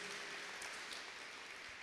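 Church congregation applauding during a Spanish-language sermon, a steady, even wash of many hands clapping at a fairly distant, uniform level throughout.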